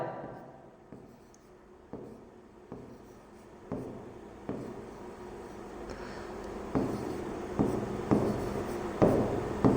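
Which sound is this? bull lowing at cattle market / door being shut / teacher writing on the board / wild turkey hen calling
teacher writing on the board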